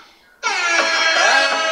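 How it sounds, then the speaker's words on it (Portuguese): A loud, sustained horn blast kicks in as the opening of a music track, after a brief quiet lead-in, holding steady and bright throughout. "Eita, começamos com buzina."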